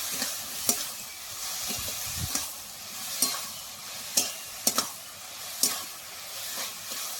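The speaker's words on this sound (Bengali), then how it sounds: "আমি 2 মিনিট মতো একটু নেড়ে চেড়ে নেব।" Bottle gourd fries with salt and turmeric in a pan for a gourd and gram-flour fritter dish, a continuous close sizzle punctuated by irregular sharp scrapes and taps as it is stirred and turned.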